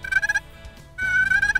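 Two soft purring bursts from a turkey call used for spring turkey hunting, each a short rolling, fluttery trill, separated by a brief pause, close and clear with no talk.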